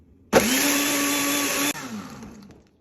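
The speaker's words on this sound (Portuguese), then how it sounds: "Agora eu vou girar um pouco para esse lado para triturar melhor o gelo." A Britânia Fortis Turbo 1400 W blender (model BLQ1300) crushing ice: a loud, steady motor whir runs for about a second and a half, then cuts off abruptly and the sound winds down.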